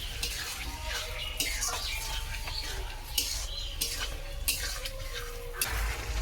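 Spice masala with a little turmeric being stirred as it fries in oil in a pan, scraping and clinking utensil sounds over a steady sizzle throughout, with no talk.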